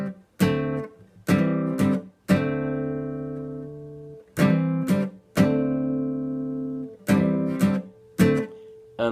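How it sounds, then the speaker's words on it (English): Acoustic guitar played alone, with repeated plucked notes and hammer-ons on the 4th string, falling into groups of ringing tones separated by short pauses. "then we're going to hammer on again, but this time on the 4th string"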